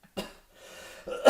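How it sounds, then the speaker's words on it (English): A person coughs in short bursts, close and fairly loud, with a breathy pause between and a harsher burst at the end, while friends hang out on a mountain. "I'm coughing a lot."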